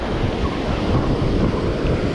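Rough ocean surf at a surf-fishing spot with heavy weeds, a steady, loud wash of breaking waves mixed with wind buffeting the microphone, no voices.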